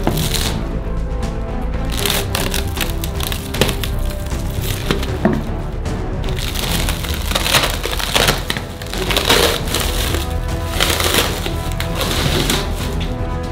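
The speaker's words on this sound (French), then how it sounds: "On n'a plus besoin des parois en bois, alors on les enlève." Wooden side boards pulled off a mould for a giant homemade candy, giving continuous dense scraping, knocking and splintering wood sounds, close and loud, with no speech throughout.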